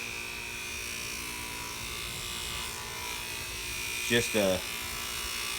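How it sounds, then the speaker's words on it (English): A bench grinder fitted with a buffing wheel coated in red rouge polishing compound runs steadily, giving a continuous electric whine and hum under a man's brief speech. "bench grinder that I put a buffing wheel on"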